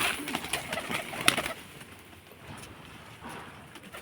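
Pet pigeons cooing softly while being fed, with a louder burst of activity and fluttering early on that settles into quieter, steady cooing.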